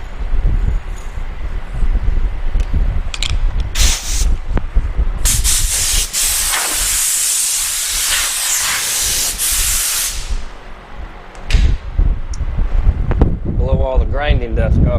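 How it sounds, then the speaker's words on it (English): Compressed air blasts grinding dust off a trailer in a shop while a 1967 Chevelle gets its tunnel raised, with loud hissing bursts of varying length, a long sustained blast in the middle, and a person talking near the end. "Blow all the grinding dust off the trailer before I go and roll around in it"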